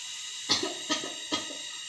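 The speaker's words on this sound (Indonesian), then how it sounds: "batukkan Bu." A pre-operative patient doing an effective cough exercise, three short forced coughs spaced roughly half a second apart, fairly close and moderately loud against a quiet room.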